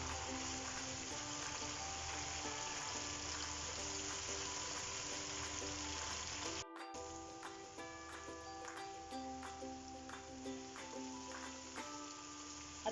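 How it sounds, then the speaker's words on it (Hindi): Ginger garlic paste frying in a pan with tomatoes for anda chana pulao, giving a faint, steady sizzle with soft crackles, broken by a brief gap partway through, with light background music. "अदरक लहसुन हमारा फ्राई हो गया।"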